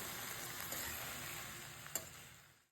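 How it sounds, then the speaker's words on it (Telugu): Poha of flattened rice being stirred with tomato pulp in a pan, a soft continuous sizzle and hiss with a couple of faint scraping clicks, alone and fading out at the end. "ఇప్పుడు ఈ గుజ్జు అటుకులు అంతా బాగా కలిసేలాగా కలుపుకోవాలి"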